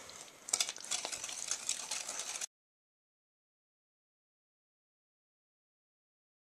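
Packed brown sugar is mixed into pumpkin pie filling in a bowl: about two and a half seconds of close, brisk stirring and scraping, then silence.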